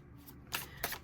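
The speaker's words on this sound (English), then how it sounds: "So I'm going to pull 8 cards for this reading." Tarot cards are pulled and shuffled in two quick, crisp riffling bursts close to the microphone, with a near-silent pause between them and no talking.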